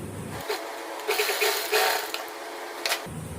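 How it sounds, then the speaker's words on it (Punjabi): A sewing machine stitching a joined fabric strip for a kameez, running in a few short mechanical bursts of whirring and clicking with brief pauses between, close and fairly loud. "ਹੁਣ ਆਪਾਂ ਇੱਥੇ ਸਲਾਈ ਲਗਾਵਾਂਗੇ"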